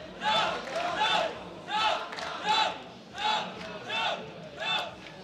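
Crowd at the IEM Katowice 2015 StarCraft 2 quarterfinal between Fantasy and Trap, chanting in a rhythmic call of repeated surging shouts, moderately distant in a large arena.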